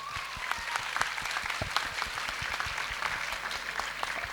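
Steady applause from a conference audience at a medical meeting, a dense patter of many hands clapping at moderate distance, even and sustained without pause.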